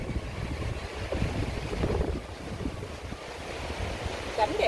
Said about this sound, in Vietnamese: À, lên nghe tiếng suối,